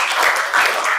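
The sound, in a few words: class applauding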